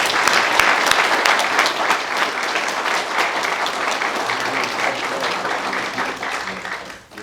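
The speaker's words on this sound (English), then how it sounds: "please give her a round of applause" Sustained round of applause from an audience at a state trooper award ceremony, dense steady hand clapping lasting several seconds with a few voices mixed in, then tapering off abruptly at the end.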